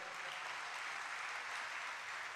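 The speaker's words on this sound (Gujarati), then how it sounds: "જોરદાર તાળીઓથી" Sustained applause from a temple festival audience at a murti pratishtha gathering, a steady dense wash of clapping that stays fairly faint and even throughout, with no talk over it.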